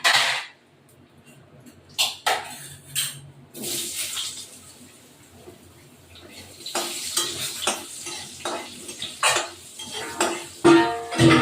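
Potatoes go into a wok of hot oil, bringing a rising sizzle along with repeated clanks and scrapes of a spatula stirring against the pan.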